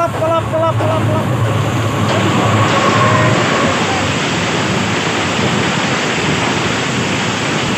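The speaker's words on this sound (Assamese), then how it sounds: "আহি গ'ল ট্ৰেইন" A train arrives with a loud, broad rolling rumble that holds steady throughout, and a few brief tonal sounds come near the start.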